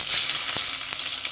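Corned beef frying in a pan with onions gives a steady, bright sizzle, close and continuous, with a couple of soft stirring taps and no speech.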